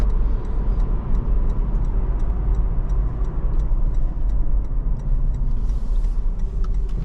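Inside a 2023 Toyota 4Runner TRD Off Road Premium while driving, its non-turbo engine gives a steady, deep low drone with road noise, and a soft regular ticking runs over it, with no talking.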